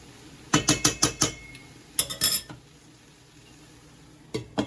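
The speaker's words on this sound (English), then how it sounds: "I don't want to crush the peas, so I'll just give it a quick little stir." A potatoes and peas casserole is stirred briefly in a pot, with a quick run of four or five close metallic scrapes and clinks, a pause, a second short cluster of knocks, then a couple more taps near the end.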